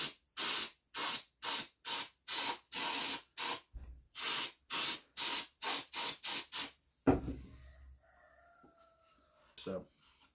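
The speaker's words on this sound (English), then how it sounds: "I'm gonna give it a spritz here." Aerosol spray on the starter magnets of a 1952 Indian Chieftain motorcycle, about fifteen short, sharp hissing bursts in a quick rhythm, close and loud, then quiet handling noises.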